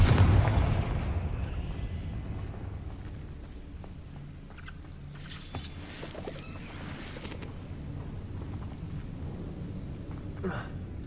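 A Confringo fire spell going off in the Hogwarts Legacy video game: a loud, deep blast at the start that rolls off into a long fading rumble, with a few scattered crackles afterward.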